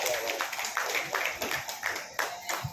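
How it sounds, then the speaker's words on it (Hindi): Audience clapping and applause greet guests called onto the stage at a singing and dancing talent show launch in the USA, a lively crackle of hands close by with voices talking over it. "जोरदार तालियां होनी चाहिए"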